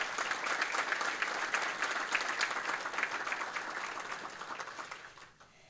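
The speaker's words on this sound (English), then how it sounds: "So let's give a round of applause again to our Sheriff's Department." An audience claps for a county Sheriff's Department at a city's State of the City address: sustained, dense applause that slowly fades toward the end.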